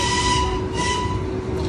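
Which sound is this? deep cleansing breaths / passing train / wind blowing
passing train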